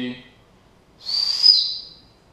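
A single shrill blast from a survival whistle lasting about a second, loud and close, following a brief moment of voice.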